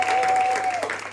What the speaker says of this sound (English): can you please give a big round of applause to the people who are volunteering?